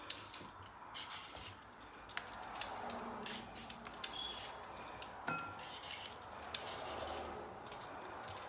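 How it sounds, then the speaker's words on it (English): Faint, close scraping and rasping strokes of a peeler working across a squash for pumpkin fritters, repeated in short irregular passes with small clicks between, no talk. "So first what we're gonna peel our"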